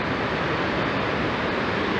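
Rushing water from a flash flood pouring down a waterfall near Araguari, a loud, continuous broadband roar with no breaks and no voices.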